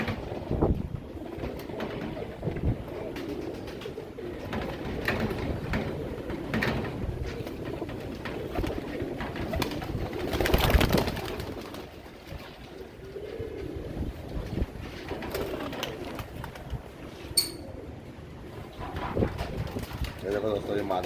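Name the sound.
Royal Teddy pigeons cooing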